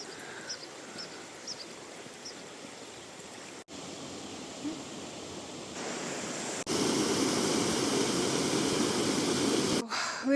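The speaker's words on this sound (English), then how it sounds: "I just love the sound of the river," A flowing river on a walk toward a waterfall in Upper Austria, a steady broadband rush that swells louder partway through, close and continuous, with no talking.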